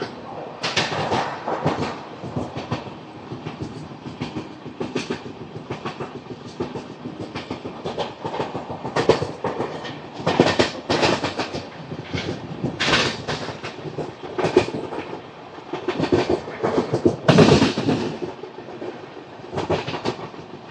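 The Gowthami Superfast Express rolls through Charlapalli station, heard from on board as a steady clickety-clack of wheels over rail joints with rattling carriage noise and intermittent louder bursts, continuous for the whole stretch.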